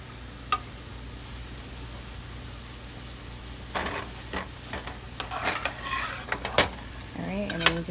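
Macaroni and cheese mixture stirred in a pot, with intermittent spoon scrapes and clinks against the pot and faint sizzling over a low hum, growing busier toward the end.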